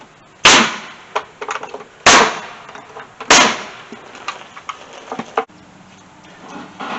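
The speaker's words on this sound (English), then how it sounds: "I got the nail gun out, so I'm fixing to shoot this frame together real quick" Nail gun firing nails into a wooden frame for a farrowing hut, three sharp loud shots spaced about a second apart, each followed by lighter knocks and handling noise, close by.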